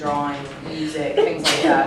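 A single sharp sneeze bursts out partway through a student's persuasive speech on arts in school, brief and close, overlapping continuous talking.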